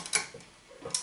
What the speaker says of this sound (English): Welcome to my old, very old sewing machine.